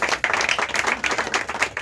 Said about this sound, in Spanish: Un aplauso al Señor nuestro Dios.